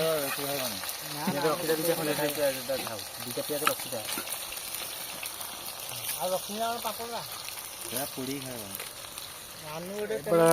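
Onions and spices frying in a pan, a steady sizzle that runs under someone talking throughout at close range.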